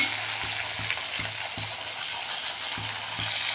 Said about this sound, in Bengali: এবার আমি সিমগুলো জাস্ট নুন হলুদের তেলে জাস্ট ভেজে নেব।